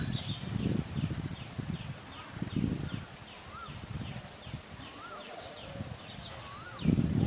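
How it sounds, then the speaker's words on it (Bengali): Crickets chirp continuously in a green monsoon valley at Mainpat, Chhattisgarh, with a few faint bird calls mixed into the steady daytime insect drone. "দিনের বেলায় এখন চারদিকে পাখির ডাক আর ঝিঝি পোকার আওয়াজ"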